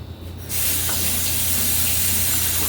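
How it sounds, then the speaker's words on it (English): Water poured or sprayed into a pressure cooker, a hiss that starts after a short pause and then runs steady, loud and close, to the end. "so I'm gonna add a little bit of water"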